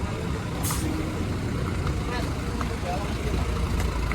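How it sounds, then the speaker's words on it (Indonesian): Heavy buses, Tunggal Jaya coaches, climb a road in Pangalengan to turn around, giving a steady low engine rumble with a brief air-brake hiss near the start. "Ini bis-bis pada naik ke atas buat muter balik."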